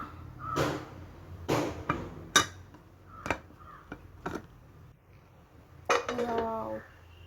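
A pressure cooker holding biryani is opened in a home kitchen, with a series of sharp, close metallic clanks and knocks from the lid and utensils spaced irregularly, and a brief voice near the end.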